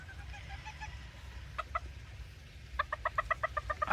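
Small Serama chickens in a winter shed, soft rapid clucking calls, a few scattered notes early then a quick rhythmic string of clucks near the end, fairly faint over a low background rumble.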